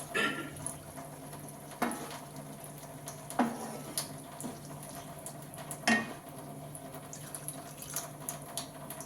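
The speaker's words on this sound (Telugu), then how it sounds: "ఇప్పుడైతే లైట్గా వాటర్ అయితే వేస్తున్నాను" Water poured lightly into a pan of chukka kura (sorrel leaves) chicken curry, a soft continuous trickle and splash with a few sharper clinks of a utensil against the pan, close and fairly quiet.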